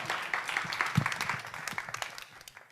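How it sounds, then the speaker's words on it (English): Audience applause at a Women in Tech conference, a moderate spread of clapping that swells near the middle and thins toward the end, with faint voices underneath. "Round of applause, please."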